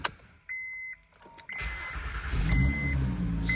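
A Honda Pilot with a faulty alternator and ABS trouble is started with the key. Chimes and a warning beep sound first, then the engine cranks and catches into a steady, close idle.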